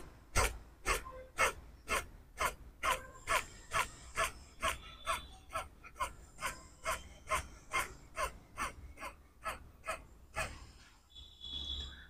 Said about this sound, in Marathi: आता त्याच्यानंतर आपल्याला कपालभाती आपण सुरू करायचं.